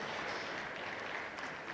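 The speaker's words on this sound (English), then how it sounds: "Big applause for you all for packing the room." Steady applause from an audience, a dense wash of clapping that holds at an even level throughout without any voices.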